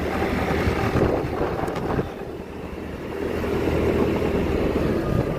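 Motorcycle being ridden, its engine drone mixed with heavy wind buffeting on the microphone, steady with a brief dip around the middle, no voices.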